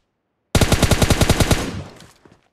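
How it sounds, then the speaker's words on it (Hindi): Automatic gunfire in the battle royale game PUBG Lite: a loud, close burst of about a dozen rapid, evenly spaced shots that then decays into a fading reverberant tail with a few faint distant pops. "फिर मुझे सामने से फायर का आवाज़ आता है"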